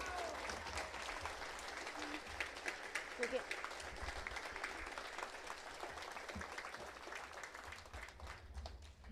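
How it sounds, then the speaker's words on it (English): Audience applause at a school veterans program, steady dense clapping from a crowd throughout, fairly faint and distant, with some voices mixed in. "I want to everybody to give a round of applause for Ron Keller."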